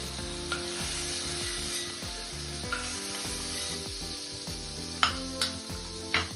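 Dry fruits sauté in ghee for a sweet suji halwa, giving a continuous close, bright sizzle. A metal spoon clinks against the pan a few times near the end. No one speaks.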